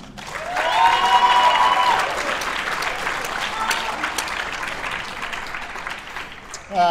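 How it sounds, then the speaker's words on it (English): Audience at a collegiate debate awards ceremony applauding regional nominees, a sustained, even wash of clapping with a voice over it early on, easing slightly before speech resumes. "if we could give them a round of applause"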